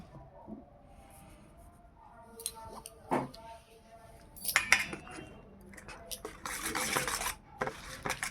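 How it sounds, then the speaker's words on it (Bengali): Eggs are beaten with salt in a bowl for egg paratha, giving quick, uneven clinks and scrapes of a utensil against the dish that get louder and denser toward the end, with some faint background noise. "এবার নুন দিয়ে দিলাম ভালো করে এটাকে ফাটিয়ে নেবো"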